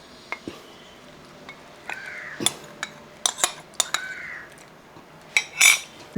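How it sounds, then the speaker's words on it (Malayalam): Intermittent metallic scrapes and clinks of a spoon stirring thickening custard around a pot, irregular and close, with quiet pauses between strokes. "നല്ലപോലെ ഒന്ന് ഇളക്കി കൊടുക്കുക കാരണം ഇത് പെട്ടെന്ന് അങ്ങ് സെറ്റാവും"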